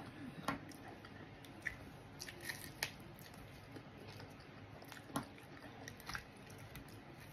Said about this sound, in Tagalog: Ang sarap ng ginawa kong chicharon. Super crispy po guys.